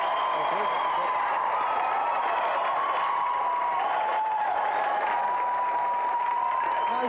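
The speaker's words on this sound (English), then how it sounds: "Round of applause, please, for tonight's special guest" A studio audience on a television show applauds a special guest, a broad steady wash of clapping mixed with crowd noise and faint cheering, with tonal music running underneath.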